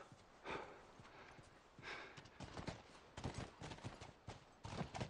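Horses in The Last of Us on PS3 give snorts and hoof clip-clops in irregular bursts, faint and close, with no one talking.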